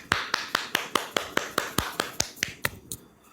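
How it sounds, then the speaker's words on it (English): About a dozen sharp hand claps or snaps land in a steady, slightly quickening rhythm, close and crisp, then fade out, with no talking over them. "Let me clap for you."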